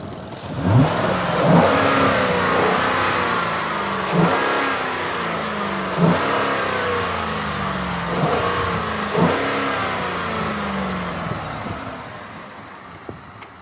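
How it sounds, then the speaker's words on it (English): A 2011 Ford F-150 pickup truck with about 130,000 miles and a stock exhaust revs up repeatedly, each blip of the throttle rising and falling in a steady rhythm, close and loud, with wind buffeting the microphone. "Go ahead and get us some revs."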